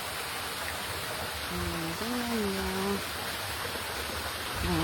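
Water pours steadily into a small, shallow kids' swimming pool, a constant close rushing wash with a person speaking over it.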